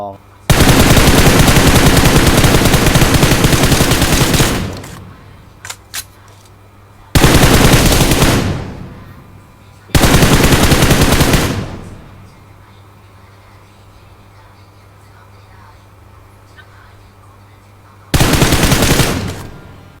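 Automatic gunfire in the PUBG Mobile battle game: four long, loud machine-gun bursts separated by quiet gaps, with a couple of brief single pops between the first two.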